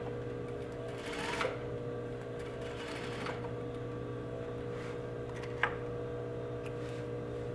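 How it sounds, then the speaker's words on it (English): A sewing machine stitches down the center of an overlocked edge on a western pocket, running at a steady hum with faint ticking and a few small clicks, close and unaccompanied by talk. "I'm stitching down the center of my overlock"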